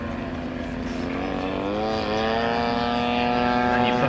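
A half-scale model aircraft, 3.1 m wingspan, powered by a DLE 170 petrol engine, buzzes close by, its engine note rising in pitch and growing louder as it revs up.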